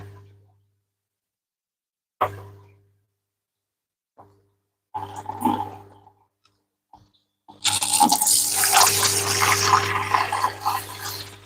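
Water runs during a water change on a rack of shrimp tanks: a few brief splashes and clunks, then a loud, steady rush of flowing water over the last few seconds.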